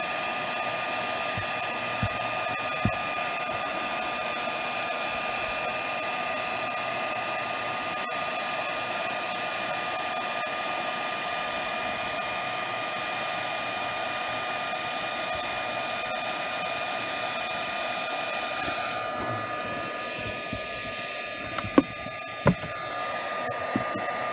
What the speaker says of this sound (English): Just heat as I go and push slowly so it can heat up and remove this Dicor.